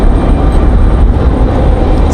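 An airliner landing in a strong crosswind at Raleigh-Durham International Airport, heard as a loud, steady, close rumbling roar of engines and wind with no clear breaks.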